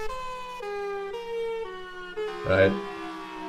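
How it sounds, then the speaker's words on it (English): An emergency vehicle siren wails in a steady two-tone alternating pattern, fairly close and loud, with a person briefly speaking over it near the end. "sirens"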